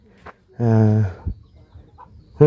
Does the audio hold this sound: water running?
no